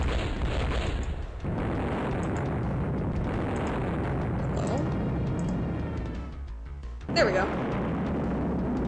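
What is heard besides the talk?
stock explosion sound effect in video game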